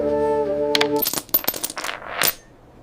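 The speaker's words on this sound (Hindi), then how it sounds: "घूमता हुआ सिक्का उसकी सटीक बनावट और संतुलन को दर्शाता है।" A metal coin spins and settles on a hard surface, opening with a sustained ringing tone that breaks into a rapid, accelerating series of rattling clinks before stopping.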